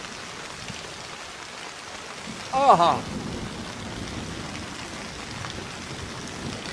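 Rain falls steadily as an even, close hiss throughout, with one brief exclaiming voice near the middle.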